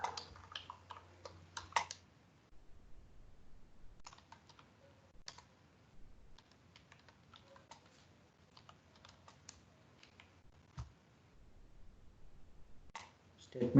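Computer keyboard typing in scattered bursts of quiet clicks while a C++ statement is entered, close and soft with pauses between keystrokes.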